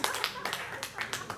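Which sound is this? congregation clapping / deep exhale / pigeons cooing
congregation clapping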